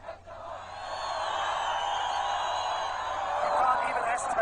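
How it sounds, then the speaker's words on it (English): A huge opposition demonstration crowd fills central Tehran with a dense roar of distant massed voices and chanting, swelling steadily, while someone speaks over it close by. "It's an incredible crowd, and this is for a demonstration the government said was banned"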